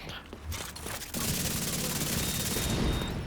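Sustained automatic gunfire from The Division 2 shooter game, a dense continuous burst of rapid shots that starts after a second of quieter combat noise and holds loud to the end, with booming low thumps underneath.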